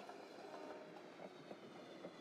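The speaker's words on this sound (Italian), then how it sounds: "Prendi il treno per andare in centro" A train ride in the video game Yokai Watch: steady rolling rumble with a rhythmic clickety-clack of wheels, continuous and close, with no talking.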